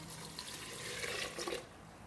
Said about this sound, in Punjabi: 4 ਕੱਪ ਅਸੀਂ ਪਾਣੀ ਦੇ ਲਏ